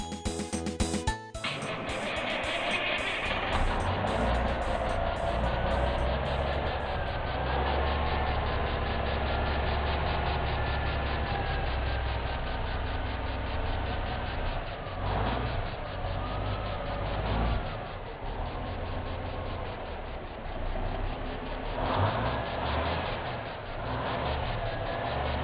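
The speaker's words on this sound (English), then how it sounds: "This Kenworth is powered by a fully rebuilt original 350 Cummins 6-cylinder diesel engine" A Kenworth truck with a fully rebuilt original 350 Cummins six-cylinder diesel and Road Ranger 13-speed transmission runs steadily, a constant broad engine rumble and drone throughout, with no talk.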